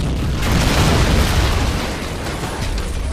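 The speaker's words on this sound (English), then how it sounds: "Artillery strike incoming." Artillery strike explosions in the WWII strategy game Men of War: Assault Squad, a dense run of heavy booming blasts rolling together into a loud, continuous rumble with crackling debris throughout.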